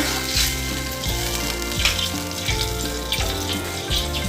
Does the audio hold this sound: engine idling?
no